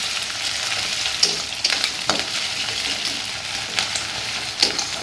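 Ginger paste and green chillies fry in a pan, a steady close sizzle with a few sharp crackles and spatters, no talking over it.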